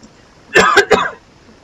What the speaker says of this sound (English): I'm sorry for lots of the coughing that's gonna be happening